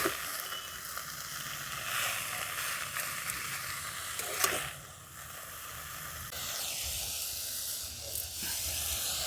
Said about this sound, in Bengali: তার জন্য আমি কড়াতে একটুখানি ধনেপাতাগুলোকে নেড়ে নিচ্ছি। মানে এই ধনেপাতার জলটাকে শুকনো করে নেওয়ার জন্য।